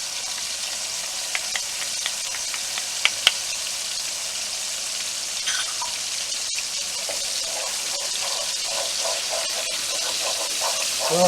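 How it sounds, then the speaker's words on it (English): Garlic sizzling in oil in a pan for shrimp scampi: a steady, moderately loud frying hiss with a few small crackles and pops throughout. "Now we want to add our garlic."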